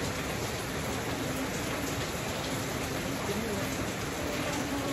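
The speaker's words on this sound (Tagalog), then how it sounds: "Malakas pa rin po yung ulan." Heavy rain pours steadily in a dense, continuous hiss, drumming on nearby surfaces with no letup and faint voices beneath it, during flooding.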